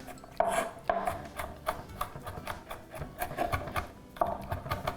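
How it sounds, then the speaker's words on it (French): Ingredients chopped finely on a board with a knife, a fast run of close, dry rhythmic taps and scrapes for several seconds, no speech over it. "Ok, hacher finement."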